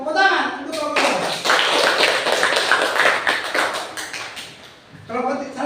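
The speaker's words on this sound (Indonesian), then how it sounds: "Tepuk tangan untuk kelompok 2" A class applauds group 2 in a fiqh lesson, a steady burst of many hands clapping for about four seconds, close and lively, with a voice speaking briefly before and after.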